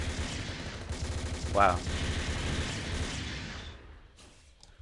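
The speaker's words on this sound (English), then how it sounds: "Same thing, more missile fun over here." Rapid missile barrages fire in a Gundam video game, a dense continuous rattle of launches and blasts filling nearly five seconds before trailing off, with a brief exclaiming voice over the top.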